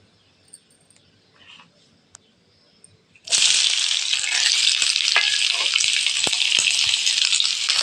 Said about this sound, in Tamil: எண்ணெய் ஊற்றிக்கலாம். ஒரு 2 கரண்டி எண்ணெய் ஊற்றிங்கன்னாச்சு. இப்போ வெங்காயம் போட்டுக்கலாம்.